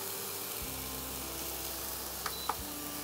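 Ridge gourd dropped into a hot pan with black cumin and green chilli sizzles in a steady, soft hiss, broken by two brief clicks.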